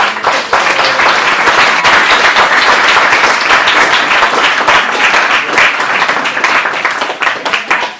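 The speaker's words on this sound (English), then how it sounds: "why don't you give another round of applause?" A large crowd at a graduation ceremony applauds steadily and loudly, dense clapping sustained throughout without a break.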